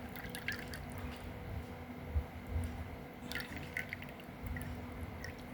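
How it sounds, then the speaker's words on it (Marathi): Thin whey trickles and drips off curd into a cup in small irregular spurts close by, soft and quiet against a faint steady background hum. "हे जे पाणी आलेलं आहे वर आपण एका कपामध्ये काढून घेऊ"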